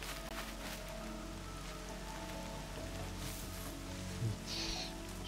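Steady rain falling in the video game Horizon Zero Dawn, an even, close hiss of drops holding for several seconds with faint low ambient tones beneath and a brief soft thump near the end.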